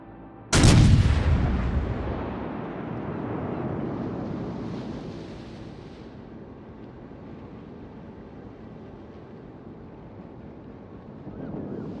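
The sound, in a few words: naval artillery gunfire from video game World of Warships: Legends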